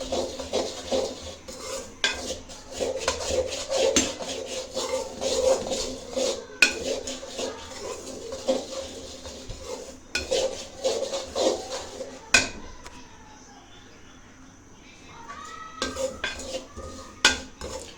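Semolina halwa stirred in a pan over a high flame, with a spoon scraping and clinking against the metal in quick repeated strokes for most of the stretch, then a quieter pause before a few more scrapes, with no voices.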